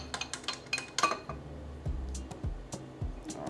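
A spatula scrapes and knocks against a bowl while mixing oatmeal cookie dough with raisins and chocolate chips, giving a string of close, irregular clinks and soft thuds with short pauses between strokes.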